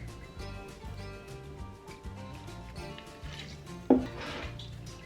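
A fork working banana panikeke batter of flour, mashed banana and milk in a bowl, giving soft repeated clinks and scrapes under background music, with one sharper knock near the end.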